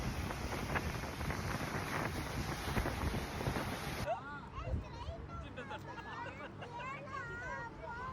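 Boat ride at Bandar al Khairan near Muscat, with strong wind buffeting the microphone and rushing water over the first half, then quieter engine and water noise. People talk throughout, and high chirping sounds appear later on.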